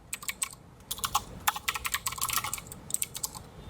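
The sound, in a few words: typing HTML code on a computer keyboard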